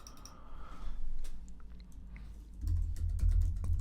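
Keys clatter on a computer keyboard while designing a letterhead, scattered close taps at first, then a denser run of typing with a thumping low undertone.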